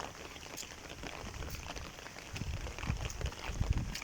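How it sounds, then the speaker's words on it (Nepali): Steady rain falling over flooded rice fields after a day of downpour, a soft continuous patter with scattered nearer drops and brief thuds, no voices. "पानी पर्ने क्रम चलिरहेको छ। एकछिन पनि रोकिएको छैन पानी।"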